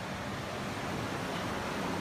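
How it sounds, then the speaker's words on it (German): Rough Indian Ocean surf off Mount Lavinia near Colombo, Sri Lanka, heard from a hotel as a dense, steady wash of roaring wave noise, unbroken and fairly full, with no voices. "hier ist das Meer, der Indische Ozean, etwas wild"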